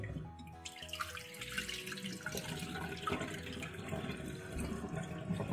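Water pours and splashes off rice being rinsed in a pot while preparing chicken biryani, a steady close-up stream of running, trickling water with no speech.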